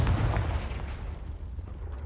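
A Confringo blasting curse detonates in Hogwarts Legacy as a deep, rumbling explosion that starts at full force and slowly decays over about two seconds.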